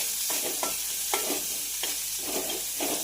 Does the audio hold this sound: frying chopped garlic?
yes